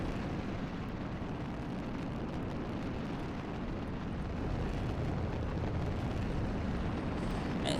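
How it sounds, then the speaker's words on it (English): Rocket engine launch roar in Kerbal Space Program, a steady broadband rumble that holds for several seconds without a break and grows slightly louder near the end. "And it's going strong. The rocket is going strong."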